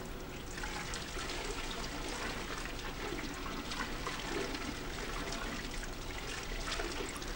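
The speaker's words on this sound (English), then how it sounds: "The liquid beeswax is poured over the wick." Liquid beeswax pours steadily over candle wicks in candle production, a continuous close trickling and splashing wash that holds at an even level throughout with no talk.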